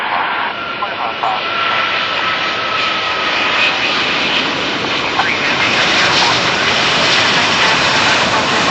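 A Lufthansa Airbus A380 landing at Miami International Airport, its jet engines a loud, steady roar that fills the whole stretch without pause.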